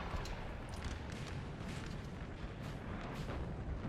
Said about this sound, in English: this artillery is still chewing up the French